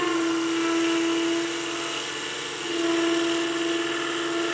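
A wood lathe spins at raised speed while a skew chisel takes a planing cut, giving a steady high whine with a strong sustained tone and a continuous hiss of shavings throughout, dipping slightly midway.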